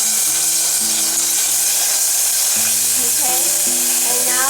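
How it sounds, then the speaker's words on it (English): Steady loud sizzling of marinated beef and garlic stir-frying in a pan, a constant hiss with low tonal music or hum running underneath. "we're going to stir fry the beef we just marinated."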